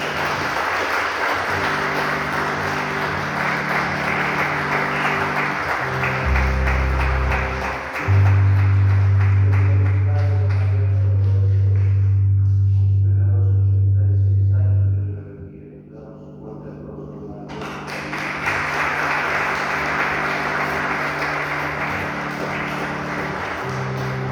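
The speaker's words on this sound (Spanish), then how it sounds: "un aplauso a la Virgen." A congregation at a Mass for the Virgin applauds, a dense, steady wash of clapping across the church, with sustained organ or music tones beneath that swell louder midway and then fall back.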